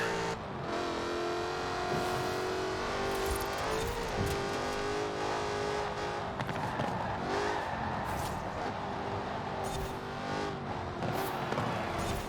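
A stock car in Forza Horizon 4 roars steadily with engine drone and revving, while repeated tire squeals and skids rise and fall as it slides through corners, loud and continuous with no voices.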